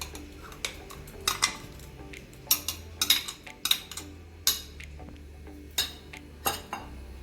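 Ingredients including blended curly red chilies being stirred in a metal pan, with irregular clinks and scrapes of a utensil against the pan, fairly quiet and close, no talking.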